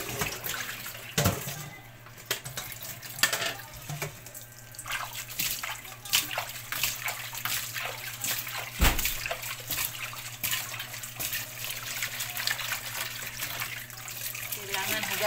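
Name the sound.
washing dishes under running water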